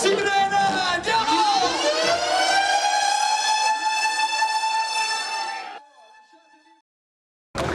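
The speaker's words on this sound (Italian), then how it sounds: "la carovana sta per ripartire con la nostra sirena" A convoy's loud siren wails over a train-like horn, rising and holding a steady tone for several seconds before cutting off, with faint activity at the start.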